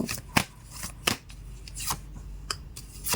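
A deck of oracle cards is shuffled close by in several quick papery bursts, each a short flutter and snap, with quiet pauses between and no talking.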